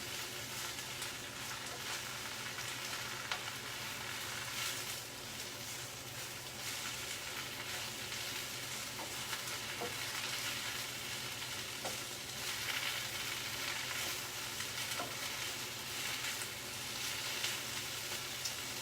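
Spinach sautéing in a pan as it is moved around until it wilts, a steady close sizzle and frying hiss with soft stirring scrapes running unbroken throughout.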